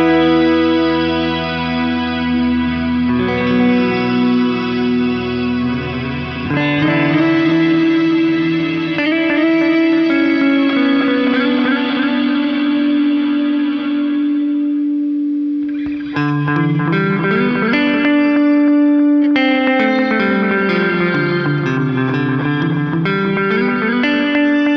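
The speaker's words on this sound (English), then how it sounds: "Let's put the reverb at 3 and let's put the delay right at 12." A distorted electric guitar runs through the Horizon Devices Flux Echo pedal with reverb and delay engaged, playing sustained chords and melodic lines that trail into lush repeating echoes and a washy reverb tail, loud and unaccompanied.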